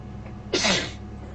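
One sharp sneeze bursts out close by inside a moving vehicle, a quick breathy blast over a low steady road hum.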